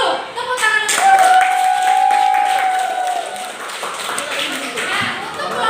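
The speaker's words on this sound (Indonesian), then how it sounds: "Tepuk tangan untuk Ibu." Classroom clapping from students in a group lesson, a busy burst of hands with voices and a whistle-like tone mixed in.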